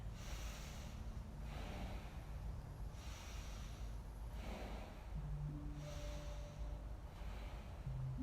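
Slow, deep nasal breaths from someone holding a yoga pose, warrior one, in a quiet room: soft rhythmic inhales and exhales roughly every one and a half seconds, close but faint.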